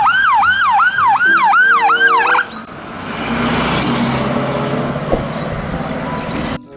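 Wailing siren from a toy fire ladder truck, rising and falling in a quick repeated cycle for about two seconds, loud and close, then cutting off into a noisy rattle of toy handling.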